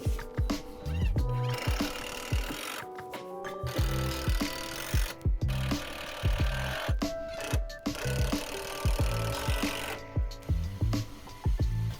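Pallet wood stringers being cut and screwed into inner supports for a box, with a steady mechanical whir from a power tool broken by short pauses and repeated bursts of rasping, rattling work close by.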